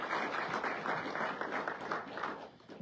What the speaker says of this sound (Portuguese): Também uma forte salva de palmas.